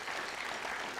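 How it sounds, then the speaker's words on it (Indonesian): Steady applause from a studio audience filling the whole second, dense and even with no pause. "kita kasih tepuk tangan dulu dong untuk"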